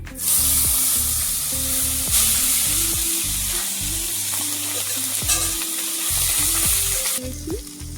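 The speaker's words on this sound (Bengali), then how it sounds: "এই কালো জিরে ফোড়ন দিয়ে দিলাম, পেঁয়াজ বাটা" Nigella seeds and onion paste hitting hot oil, a loud sustained sizzle and crackle heard up close, with occasional stirring scrapes throughout.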